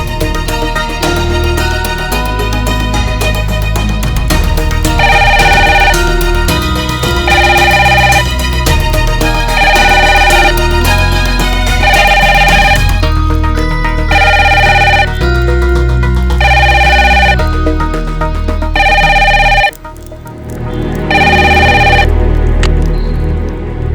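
A telephone ringtone sounds in a repeating pattern of loud, steady bursts, over and over with nobody picking up, carrying on close and clear across the whole stretch with no talking.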